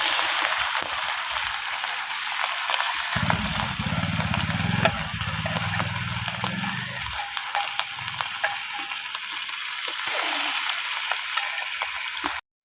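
Fish fries in a pan over a traditional Bengali clay stove, with a steady, close, crackling sizzle and a low humming rumble in the middle stretch.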